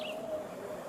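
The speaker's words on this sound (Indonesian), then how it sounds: "Burung." A single bird calls faintly in a forest at the foot of a mountain, one thin whistled note over quiet outdoor background hiss.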